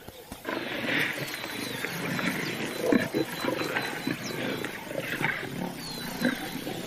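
Lions roaring in the wild near a river, a series of deep, throaty roars and grunts rising and falling over several seconds against an open outdoor backdrop, fairly close and unaccompanied by speech.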